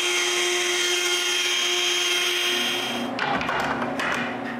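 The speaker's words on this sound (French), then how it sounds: "Je change les ajustements de ma table de toupie, puis je refais d'autres coupes." Router table cutting wood: a loud, steady high-pitched motor whine that shifts into a rougher, grittier cutting noise near the end as the bit bites into the piece.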